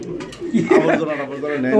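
Pigeons coo at a bustling pigeon market, soft throaty calls close by, mixed with people talking over them.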